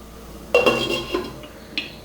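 A metal lid is set onto a pot of simmering potato curry, giving a sharp clank with a brief ringing tail, followed by a couple of lighter clinks.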